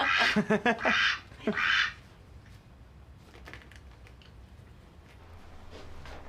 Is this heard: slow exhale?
no